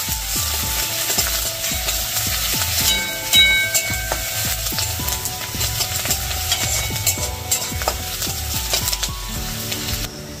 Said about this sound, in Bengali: পেঁয়াজ রসুন লঙ্কাটা আগে দিয়ে দিই। এইটা একটু ভালো করে ভাজতে হবে, লাল লাল করে।